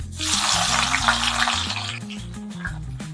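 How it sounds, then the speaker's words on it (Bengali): Onions sizzle and crackle in hot oil, a bright hissing fry with low tonal music underneath. "পেঁয়াজটা হালকা করে লাল লাল করে ভেজে নেব"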